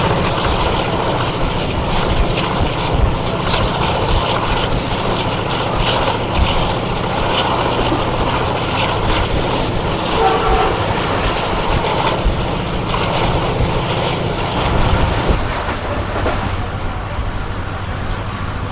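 Shalimar Express rolling on rails behind the locomotive between Rohri and onward, a loud continuous rumble and clatter of wheels and carriage heard from on board, steady throughout with a slight shift in tone near the end.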